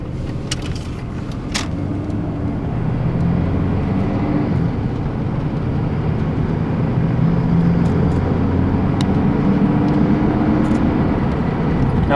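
A Chevy S10 pickup with a bucking problem drives steadily, a continuous close low engine and road rumble filling the cabin without pause, with no speech.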